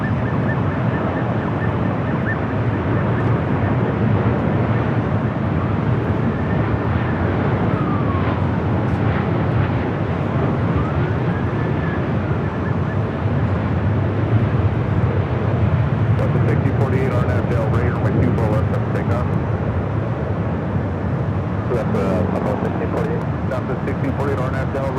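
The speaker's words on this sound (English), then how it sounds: "Short final we have United 38 787-10 Dreamliner coming in from Tokyo" A United Boeing 787-10 Dreamliner on short final into LAX, arriving from Tokyo Haneda, gives a steady broad jet roar with wind noise over the microphone, loud and continuous throughout.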